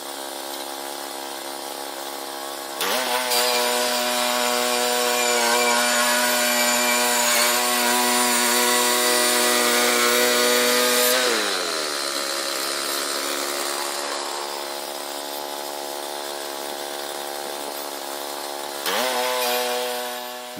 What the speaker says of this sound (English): I'm getting more and more comfortable with my sawmill. This is a Woodland Mills 122, HM122.